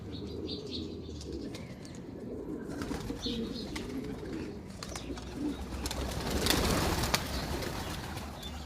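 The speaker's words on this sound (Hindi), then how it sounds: "कबूतर आ गए।" Pigeons coo softly near a home while being fed, with low repeated cooing, occasional chirps and a brief flutter of wings against a quiet background.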